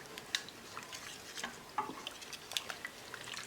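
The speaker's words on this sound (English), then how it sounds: "I'm going to go back and stir the milk." Milk being stirred in a pot for old-fashioned boiled custard: faint, irregular scraping and clinking of a utensil against the pot, with soft liquid sounds between the strokes.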